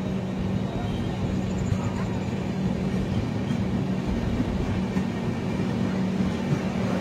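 The Kulik Express rumbles steadily into Kaliaganj station in Uttar Dinajpur, with a dense, even roar of the carriages at moderate loudness and no distinct clatter.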